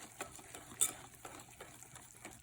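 A whisk stirs tempura batter for Japanese vegetable tempura in a bowl, making soft, rhythmic scraping strokes with faint clinks. One brighter metallic tick stands out early, and the sound is quiet and close.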